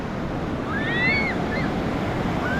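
Ocean surf rolls steadily onto Miramar Beach, Florida, on a red flag day, a continuous broad wash with wind noise on the microphone and a few faint high calls drifting over it.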